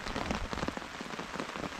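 Steady pouring rain drums on surfaces at a bush campsite by Myall Lakes, a dense continuous patter with no voices.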